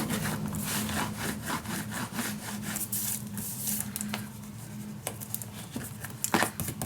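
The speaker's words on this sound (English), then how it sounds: "burnish it down, clean all your glue exits" Paper in a mini album is burnished down with quick back-and-forth rubbing strokes. The rubbing is soft, close and scratchy, with an uneven rhythm, and no voice is heard.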